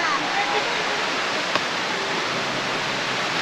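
Bokadkada waterfall near Usgaon Dam pours with a steady, dense broadband rush of falling water, continuous and fairly loud throughout, with a faint click partway through and no voices.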